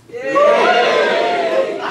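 A stand-up comedy audience cheers and whoops together in a loud, sustained burst that swells quickly and holds for a couple of seconds before easing slightly.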